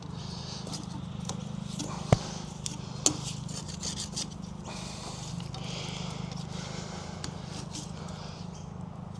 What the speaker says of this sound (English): Scrape all this off.